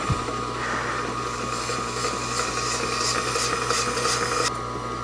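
Kitchen knife honed on a Tormek T-1 composite honing wheel, a continuous even whirring rub over a motor hum, steady and close, ending in an abrupt drop near the finish.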